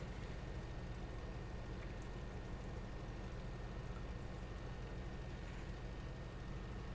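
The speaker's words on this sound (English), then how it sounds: "quite a strain on the tractor" Tractor engine labouring steadily under heavy load while working a soil field in Farming Simulator 22, a continuous low droning rumble at even loudness throughout, with no voices.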